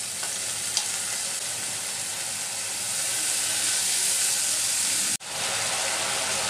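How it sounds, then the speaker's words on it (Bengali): Chili and turmeric paste with salt frying in a pan for rohu fish curry, a loud, steady close sizzle with faint stirring that swells slightly midway, then cuts off abruptly before resuming. "মরিচের গন্ধ যাওয়া পর্যন্ত কষিয়ে নিলাম।"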